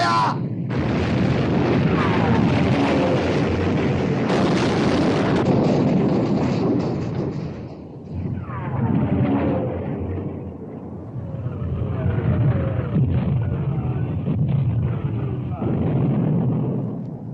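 Battleship guns thunder in a 1960 naval battle recreation of the Bismarck's sinking, with loud, heavy booms rolling into a continuous rumbling roar that swells and dips over many seconds.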